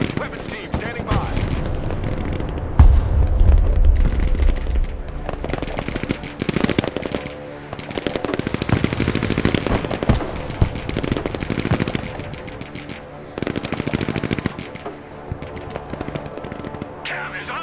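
Machine gun fire in the video game Broken Arrow, long loud rattling bursts mixed with heavy booms and explosions in a dense battle soundscape, with radio-style voices calling out over the gunfire.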